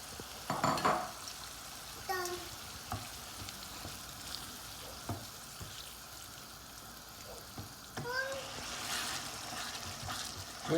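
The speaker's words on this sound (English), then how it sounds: "we're just continuing stirring and waiting for it to dry out" Soaked dal mash sizzles and fries in a pot while being stirred steadily, with a soft continuous crackle and occasional scraping and clinking of the spoon against the pot.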